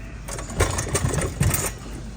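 Impact ratchet with a 1/2 inch socket loosening bolts on a VALOR machine during drain cable replacement: three short buzzing whirs in quick succession, close and fairly loud, with no talking.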